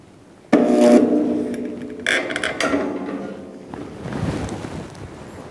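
A spot welder fires against the sheet-metal end of a toolbox with a clamp nearby: a loud, sudden buzzing burst, then a second burst a moment later, followed by metallic rubbing and shuffling as the clamp is moved.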